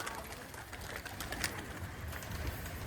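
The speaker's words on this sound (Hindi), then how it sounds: "ये सारे के सारे नर कबूतर खुल रहे हैं।" Male Patiala pigeons released from a long rooftop in Rohtak, giving soft cooing and a scattered flutter of wings, with faint talk in the background.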